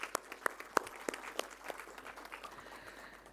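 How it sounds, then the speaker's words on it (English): Scattered claps from an audience at a conference valedictory session honoring professors, several sharp separate hand claps at first that fade into a faint, thin patter. "So please, a special round of applause for Professor Rai, Professor Acharya, Professor Venkat for their continuous support and enthusiasm."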